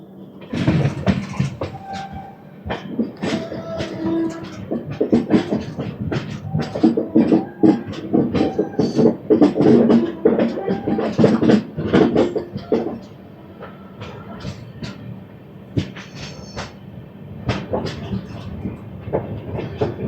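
Venkatadri Superfast Express pulls away again after a brief ten-second halt, its wheels clacking over rail joints in a busy, irregular rhythm from inside the coach, with faint voices in the background.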